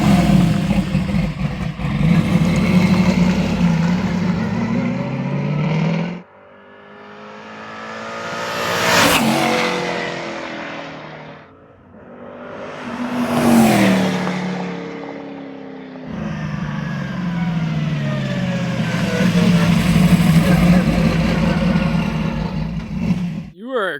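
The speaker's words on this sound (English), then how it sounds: "he's gonna do a couple flybys and hear that exhaust" A 1968 Camaro with a NASCAR engine on a canyon road makes two fast flybys, its deep exhaust droning loud, then each pass rising to a close roar and fading, with a steady engine drone from inside the car before and after.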